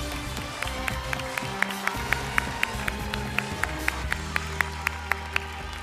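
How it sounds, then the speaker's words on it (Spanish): Audience applause at the Miss World Spain 2023 pageant as the non-qualified candidates are sent off, heard as steady rhythmic clapping at a brisk pace over sustained stage music. "despedir con un fuerte aplauso a las"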